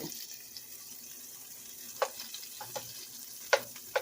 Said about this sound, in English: Okay, and I'm gonna add that butter just like that.